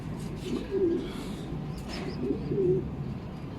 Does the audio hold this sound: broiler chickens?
no